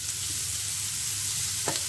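Dried anchovies frying in a pan with green chilies, giving a steady, close sizzle with a brief soft clatter near the end and no voices.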